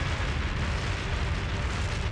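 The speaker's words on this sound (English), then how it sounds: "that was a pretty cool explosion" A spacecraft blows up in the space combat game Colony Wars Red Sun: a sustained rumbling blast of broad, dense noise, heavy in the low end and steady in loudness, with no voice over it.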